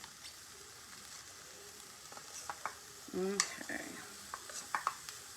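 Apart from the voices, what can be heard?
chopped onions sizzling in a skillet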